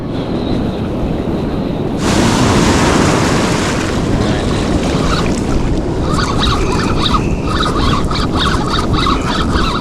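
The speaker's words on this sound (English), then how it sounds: "It's just the sneaker waves." Sneaker waves rushing up a Northern California beach, a loud roaring surge of surf with heavy wind buffeting the microphone and a rising wash of water near the listener.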